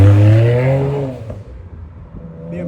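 A BMW car revving loudly as it drives past on a street, a strong engine tone that rises then fades away within about a second and a half, leaving faint street background.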